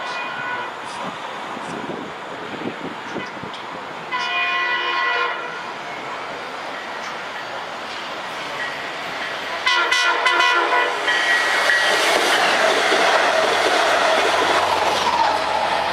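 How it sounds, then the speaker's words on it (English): A westbound Long Island Rail Road diesel train from Port Jefferson to Jamaica approaches, blowing its horn in several loud blasts over a building rumble and clatter of wheels that grows nearer and louder. "approaching westbound at 5:28 is train 655 en route from Port Jefferson to Jamaica. This will be the only westbound diesel train we will see"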